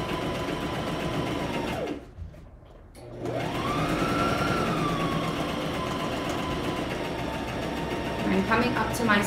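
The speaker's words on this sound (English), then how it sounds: "And you put your presser foot back down and you continue sewing." A sewing machine runs steadily as it stitches fabric in a live sewing class. The motor whirs continuously, pauses briefly for a pivot, then resumes humming at an even pitch.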